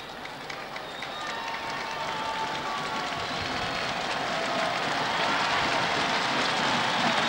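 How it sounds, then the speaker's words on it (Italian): A stadium crowd applauds at the 1979 opening of Benevento's Santa Colomba stadium, a steady wash of clapping and crowd noise that swells gradually louder toward the end, heard from a distance outdoors. "Il pubblico applaude, ma noi ancora non riusciamo a vederli."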